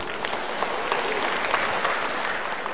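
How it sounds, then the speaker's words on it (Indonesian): Steady applause fills the hall from an audience at a university academic oration and professorial inauguration ceremony, even, sustained clapping throughout with no break. "Tepuk tangan."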